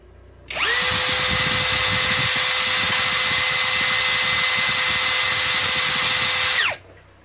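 A cordless MLHY drill driver spins at speed 1 with the motor on from start to finish, a loud, close, steady high whine with no load, starting and stopping abruptly.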